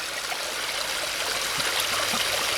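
A small stream pours steadily into a backyard pond, a loud, close, continuous rushing and gurgling of flowing water with no pauses.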